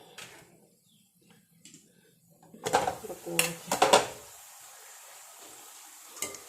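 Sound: cooking pot being tilted and set down

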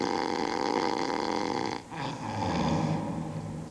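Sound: snoring

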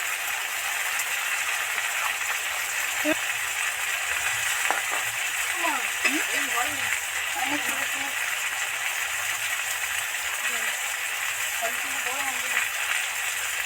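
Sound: chili and bay leaves frying in oil

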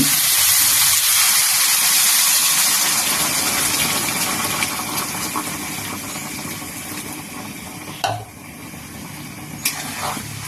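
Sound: hot water poured from a thermos into curry

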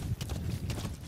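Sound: horse hooves clip-clopping in video game

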